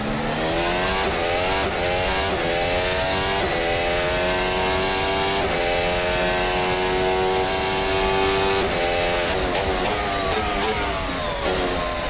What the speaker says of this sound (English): That was second gear, upshifting to third gear